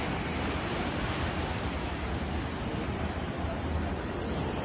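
Ocean surf roaring steadily onto the shore at Colombo, Sri Lanka, a continuous loud broadband wash with some wind rumble and no break in the sound.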